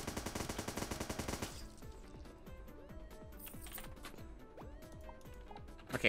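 A machine gun in the game Starbound fires a rapid, loud, evenly spaced burst for about a second and a half, followed by a scatter of quieter clicks and small impacts.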